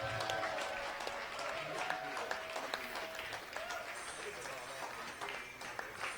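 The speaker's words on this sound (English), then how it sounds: "I want to give all of them a round of applause," Theatre audience at the Howard Theatre in Washington, D.C. applauding the performers, a dense, steady wash of many hands clapping throughout, with some voices and cheers mixed in.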